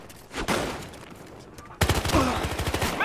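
Gunfire in the video game Battlefield Hardline, heard as a few muffled shots and then a dense rattling volley, with a voice talking over it.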